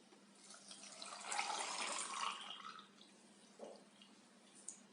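Water running and splashing into a container for a couple of seconds, then a few faint drips and clinks; no voices.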